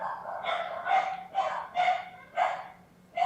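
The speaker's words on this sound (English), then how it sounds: "Dogs barking." Dogs bark in a steady series of about six rough, evenly spaced barks, moderately loud at a short distance, with no other sounds over them.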